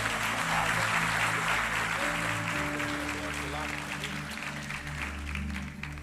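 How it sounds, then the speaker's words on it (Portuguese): A church congregation applauds in praise during a service, a dense, sustained wash of clapping with organ or keyboard chords sounding underneath. "dá mais um aplauso ao Senhor Jesus"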